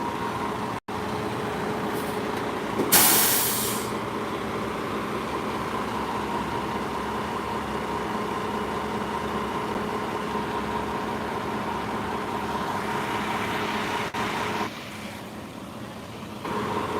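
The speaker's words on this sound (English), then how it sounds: "trash truck." Trash truck with air brakes, its engine rumbling steadily close by for the whole stretch, with a short hiss of air brake release near the start and a brief shift in the engine tone toward the end.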